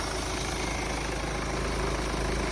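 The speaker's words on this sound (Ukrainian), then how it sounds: "мотор працює гарненько" A Hyundai ix35 2.0 CRDi diesel engine idles steadily up close, a constant rumbling hum with faint knocking, no voices.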